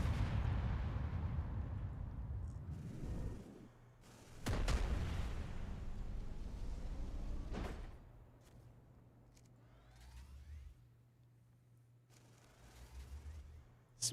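Warship gunfire in the Modern Warships video game: deep booming shots and sharp blasts, several heavy bursts with rumbling tails, then quieter distant thuds and a final sudden crack.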